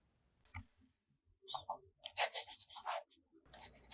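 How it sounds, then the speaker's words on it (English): A fountain pen writes on paper in a Portage reporter's notebook, making quiet, intermittent scratchy strokes with brief pauses between them, close and soft. "The next writing sample is done in a Portage reporter's notebook."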